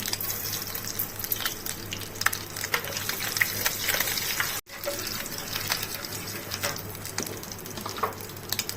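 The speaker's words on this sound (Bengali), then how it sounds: "বন্ধুরা, তেল গরম হয়ে গেছে, দিয়ে দিচ্ছি চিনি।" Sugar dropped into hot oil in a wok for Bengali crab curry sizzles with a steady, close frying hiss, broken by a brief cut midway and light stirring clinks.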